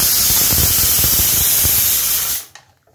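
Water poured into a hot pan of vegetables and fish heads makes a loud, close, steady sizzling hiss of steam that cuts off abruptly near the end, leaving a few faint clinks.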